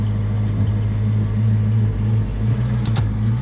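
A Ford Mustang Foxbody engine running smoothly after a throttle position sensor repair, with a loud, steady low drone held throughout and a couple of brief high beeps near the end.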